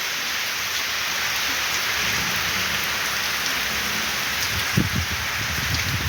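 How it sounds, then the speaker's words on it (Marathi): Steady heavy unseasonal rain pours down, a dense continuous hiss with a few low thuds of drops hitting nearby surfaces toward the end. "आता मस्त भरभरून पाऊस पडू राहिलेला आहे आणि भरपूर असा छान मुसळधार होत आहे"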